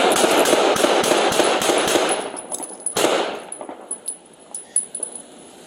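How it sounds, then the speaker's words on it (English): Rapid volley of gunshots fired by police in a police shooting, about a dozen sharp loud cracks in quick succession, followed by a few scattered fainter impacts and clatter. "shots fired"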